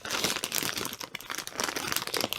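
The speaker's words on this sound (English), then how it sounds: "take all these out of the plastic bag" Plastic bag crinkling as a Safariland 578 GLS Pro Fit holster and its parts are unpacked, close, busy rustling and crackling bursts with no pause.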